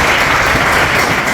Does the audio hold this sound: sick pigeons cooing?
no